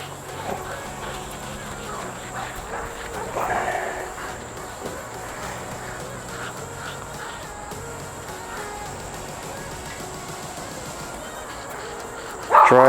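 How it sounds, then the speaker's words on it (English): A neighbor's dog barking in the distance: faint, repeated barks scattered over a steady background, with a louder knock near the end. "Sorry about that barking, the neighbor's dog."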